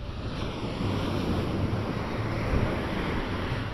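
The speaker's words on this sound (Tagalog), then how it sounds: "Malakas ang alon." Strong ocean surf crashes and rolls continuously, a loud, broad roar with wind buffeting the microphone throughout.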